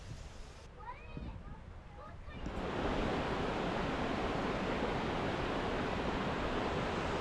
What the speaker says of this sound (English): The sound here is consistent, rushing waters echoing through tall stands of fir and pine